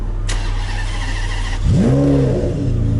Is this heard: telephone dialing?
no